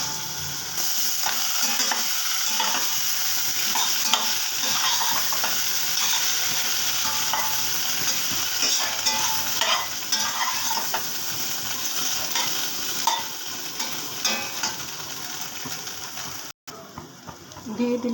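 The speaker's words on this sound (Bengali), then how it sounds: "এটাকে এখন কষাবো। আলুগুলো এবার দিয়ে দিচ্ছি।" Potatoes stirred and fried with onion, salt, turmeric, cumin and chilli powder in a pan, a steady loud sizzle with scraping stirs throughout, briefly interrupted near the end, while someone talks.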